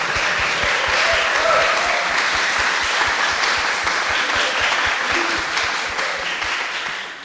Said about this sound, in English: please clap your hands for you, for yourselves